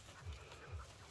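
Dog panting nearby in a calamansi orchard, two quick soft breath pulses, faint and close.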